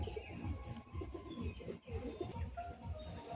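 Madrasi pigeons at a Kolkata high-flying loft coo in repeated soft, low throaty phrases, close by, with faint chirps and background noise mixed in.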